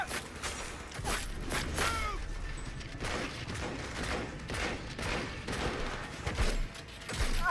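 Revolver shots ring out in Cyberpunk, a string of sharp, fairly loud gunshots spaced irregularly across the stretch, mixed with game clatter and footsteps.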